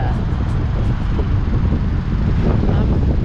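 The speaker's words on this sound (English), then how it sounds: "it's like 45-mile-an-hour gusts" Strong gusts of roughly 45 miles per hour buffet the microphone outdoors, a loud, continuous low roar and rumble with no pause.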